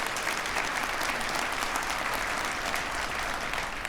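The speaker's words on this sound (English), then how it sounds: "yes, absolutely, you can applaud that" A crowd at a Conservative political speech in Winnipeg claps steadily and loudly for several seconds, a dense, even applause with no speech over it.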